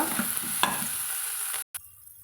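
Food sizzles in a pan as a spoon scrapes and stirs the mixture with a few clinks, then the sound cuts out briefly and quiets.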